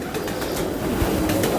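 Prized pigeons kept for kabootar bazi coo in sunlight, soft low throaty calls close by over a steady rumbling background.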